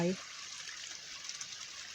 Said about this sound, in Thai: ฟังเสียงน้ำไหล น้ำไหล